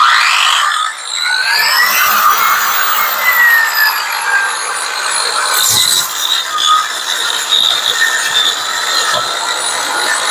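An electric drywall sander with vacuum dust collection running and no sandpaper fitted powers up, its high motor whine rising in pitch and then holding steady. It is loud and continuous, with no one talking.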